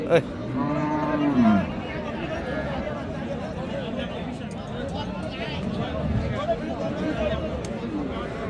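Cows low at a busy village cattle market selling Sahiwal dairy cows with calves in Dinajpur, one loud drawn-out moo near the start over a steady murmur of crowd chatter and people talking nearby.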